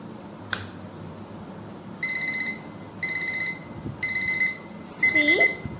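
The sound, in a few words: alarm clock ringing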